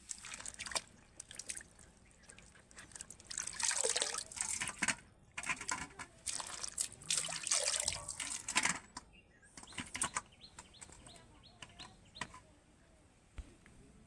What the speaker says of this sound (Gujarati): આ મિત્રો ફ્લાવર છે. આપણે ધોઈ નાખીએ.